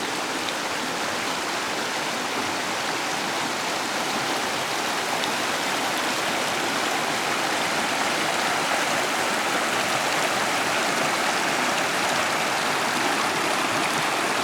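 Robinson Run, a deep creek on an old West Virginia farm, flows in a steady, broad rushing wash, close and unbroken, with no voices.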